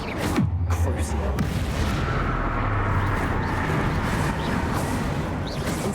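The Crucio curse spell is cast in Hogwarts Legacy: a loud, sustained, rumbling roar that opens with a sharp attack and continues as a steady booming wash, close and unbroken.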